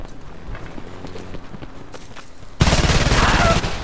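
An XM10 assault rifle fires in a Homefront team deathmatch on the Borderlands map: quiet game sounds and footsteps, then a sudden loud sustained burst of automatic gunfire for the last second or so.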